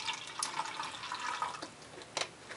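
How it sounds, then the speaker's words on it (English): Water poured into a styrofoam cup, a faint continuous liquid trickle and splash with a few small clicks and taps, no talk. "Let's pour some water into this one."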